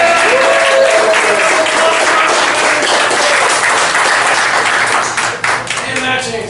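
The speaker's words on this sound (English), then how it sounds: "round of applause for our TOs" Sustained, dense applause from an audience at a Warhammer 40K tournament, thanking the organizers; a steady wash of many hands clapping that holds loud throughout, with faint voices mixed in.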